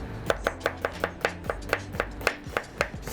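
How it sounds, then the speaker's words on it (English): A knife slices an onion on a cutting board while chicken and broccoli are being cooked. About fifteen crisp, close cuts follow in a steady, quick rhythm, with no talking. "So when I slice an onion, I cut it from north to south, and I'm gonna cut from east to west."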